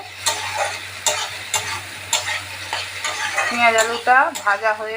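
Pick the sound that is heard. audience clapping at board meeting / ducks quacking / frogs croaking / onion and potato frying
onion and potato frying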